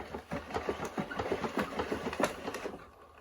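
Gear of an 1887 hand-crank organ turning, a quiet, rapid mechanical clicking and rattling at a steady rhythm, close by, with no talking.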